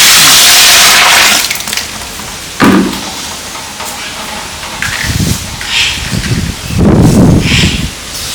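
Juice pours steadily and loudly into a vessel for about a second, followed by quieter splashes, sloshing and handling noises.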